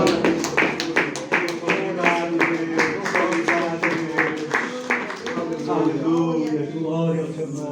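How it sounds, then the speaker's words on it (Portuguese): A Pentecostal church congregation at an Assembleia de Deus service in Porto breaks into rhythmic clapping, a steady run of sharp, close hand claps mixed with voices and worship sounds that thin out toward the end. "Eu peço, irmãos, uma salva de palmas para o nosso Deus"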